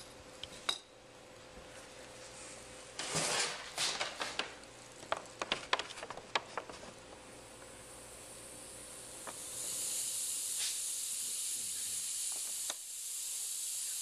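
Dry ice percolating as it melts into D-limonene during an extraction, giving a steady hiss with scattered sharp crackles and clinks, then a louder, broader hiss that builds toward the end.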